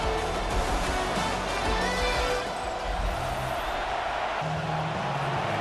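Dense, steady stadium crowd roar from a Madden NFL 26 football game, Vikings against Bears, a constant loud wash of many voices with no single voice standing out.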